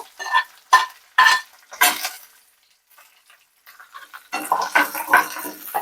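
Onion, green chili and curry leaves frying in a pan, with short bursts of sizzling and scraping stirring strokes, a brief quiet gap, then a denser run of frying noise up close.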